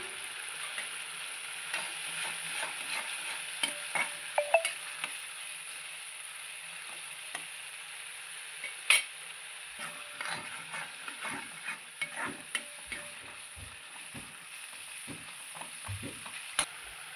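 Tomato sizzles gently as it fries in chole masala in a pan, giving a steady low hiss broken by scattered spoon-stirring scrapes and clicks. The sound is close but fairly quiet, with no talk.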